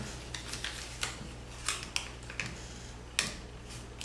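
Paper is creased and folded for an origami tree frog, producing soft crisp clicks and crinkles at irregular intervals, close and quiet over a steady low hum.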